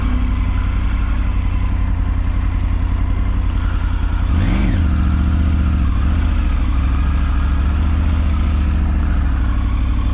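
A motorcycle engine idles loudly and steadily nearby, with one brief rev partway through before it settles back to a rumbling idle.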